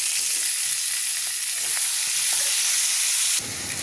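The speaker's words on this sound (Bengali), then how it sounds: "এগুলো একই তেলে ভেজে নেব।" Potatoes fry in the same hot oil just used for prawns, giving a steady, close, bright sizzle that holds evenly and then drops off abruptly near the end.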